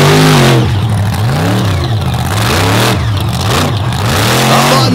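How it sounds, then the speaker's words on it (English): The monster truck Plain Crazy revs hard at a freestyle show, its engine swooping up and down in repeated loud surges, with brief dips between bursts. "that truck has such a different sound"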